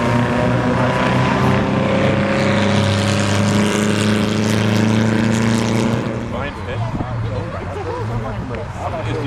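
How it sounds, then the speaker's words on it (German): An early Triumph Spitfire sports car idles at low revs at a classic car show, a loud, steady, throbbing engine note that carries on throughout while someone speaks over it. "Da braucht es keine hohen Drehzahlen und entsprechend klingt auch dieser Motor, wie sie bis hierher hört."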